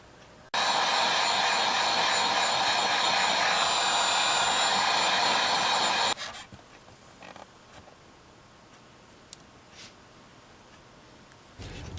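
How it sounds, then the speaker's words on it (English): A hair dryer or heat gun blows hot air onto a sticker on a plexiglass motorcycle windscreen, a steady loud whirring hiss for about five and a half seconds that then cuts off, leaving faint handling noises and quiet. "I have to heat gun this, or hair dryer, this sticker off"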